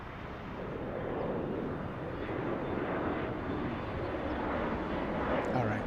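American Airlines flight 2767 from DFW, an airliner arriving at LAX airport, gives a steady broadband engine roar throughout, moderately loud and without a clear peak, with wind noise on the microphone.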